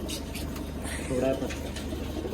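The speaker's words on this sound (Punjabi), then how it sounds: "ਵੱਡੇ ਕਬੂਤਰ ਵੀ ਹਨਾ ਹਨਾ" Pigeons coo softly in the background while a person speaks nearby, with a brief, slightly louder coo in the middle.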